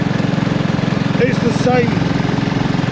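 BSA Rocket Goldstar motorcycle engine running while riding, a steady low throbbing pulse with brief voices over it.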